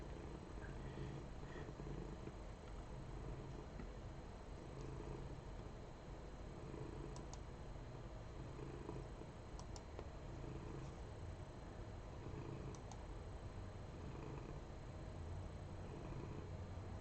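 Big, heavy cat purring up close, a faint, continuous low rumble that stays even throughout, with no talking.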